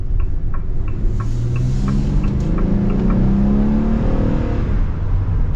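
A 2024 Ram ProMaster cargo van with a V6 engine drives along, its steady engine drone and road roar continuous and close, with the pitch rising gently as it accelerates.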